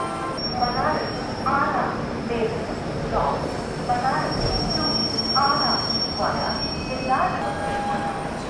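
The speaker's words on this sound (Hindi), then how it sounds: "बिल्कुल डॉट ऑन टाइम अपनी ट्रेन का डिपार्चर हो चुका है पंडित दीनदयाल उपाध्याय से।" The Mahabodhi Express pulls out of platform 1 at Pandit Deen Dayal Upadhyaya station, its wheels squealing and rolling past nearby while someone talks over the rail noise.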